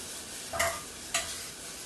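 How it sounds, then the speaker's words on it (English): Onions sautéing in a pan give a soft, steady sizzle, with two brief scraping stirs standing out clearly against the quiet frying hiss. "get some color on our onions, which isn't going to take long"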